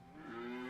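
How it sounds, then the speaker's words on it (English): A cow lets out a short, low moo that swells in loudness over a fraction of a second and is heard alone. "Get that cow out of here!"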